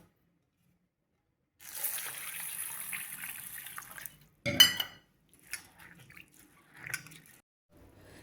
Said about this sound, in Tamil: அடுத்து கோதுமையை கழுவிக்கலாம்.